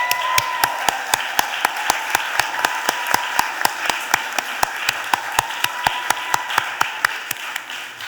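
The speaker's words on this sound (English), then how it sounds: "Please stand so we can give you a round of applause." Sustained applause fills a Philadelphia City Council chamber during a stated meeting, with many hands clapping steadily and a few sharp louder claps standing out, continuing without pause and no talk over it.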